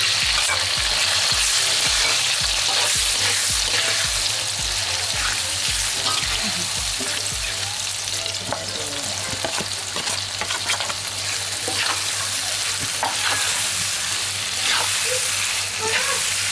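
Onions fry in hot oil with a loud, dense crackling sizzle that stays steady throughout, while rhythmic scraping strokes of stirring sound through it, close by and with no talking.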